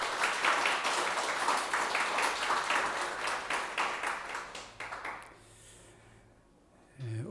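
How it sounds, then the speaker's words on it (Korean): A church congregation claps together in a burst of sustained applause that gradually thins out and fades, leaving quiet at the end. "우리 하나님께 영광의 박수 올려드리겠습니다."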